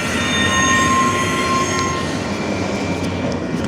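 A Union Pacific manifest freight train rolls into a south rail yard, loud and close, its steady wheel rumble carrying high metallic squeals from the wheels on the track.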